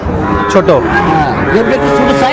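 Shahiwal cattle at a crowded livestock market in Sirajganj let out a long, loud, close moo that wavers in pitch, over a busy background of people talking.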